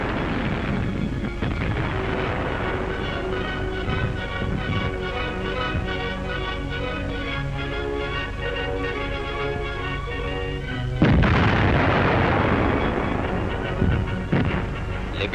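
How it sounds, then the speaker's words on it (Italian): Deck cannon of the Italian submarine Barbarigo firing on an enemy steamship at sea in 1942, heavy booms and blasts over a dense wartime soundtrack, with a louder burst near the end. "L'unità nemica viene affondata a colpi di cannone."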